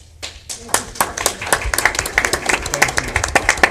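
Applause from a community council meeting audience, scattered claps building into a fairly dense ripple of hands, close and moderately loud, with voices murmuring underneath.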